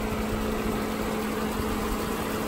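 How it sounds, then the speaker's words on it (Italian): Mercedes A170 engine idling steadily at close range, a smooth, quiet, even hum with a faint low vibration that holds constant throughout, and no voices. "Motore molto silenzioso, equilibrato."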